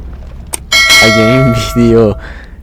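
A bright notification bell rings out loud and clear, a sharp strike followed by a sustained, ringing chime that fades away.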